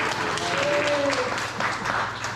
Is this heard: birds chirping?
no